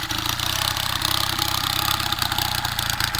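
Vintage Honda or Suzuki motorcycle engine idling up close, a steady loud rumbling putter with a fast even pulse throughout and no talking.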